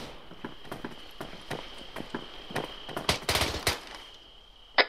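Gunfire in an ARMA 3 battle against ISIS: bursts of automatic weapon fire and single shots crack at mid distance, building to a dense volley near the end, with a final sharp close report.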